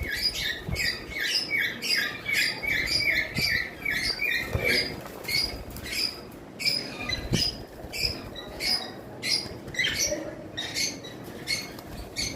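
Caged high-mutation lovebirds chirp and squawk in rapid, repeated bursts, sharp and close, continuing throughout with a few louder squawks.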